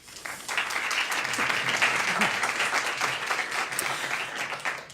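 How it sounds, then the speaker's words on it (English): Steady applause from a sizable crowd, many hands clapping densely and evenly for the full length, fairly loud with no voices above it. "Please give them a round of applause."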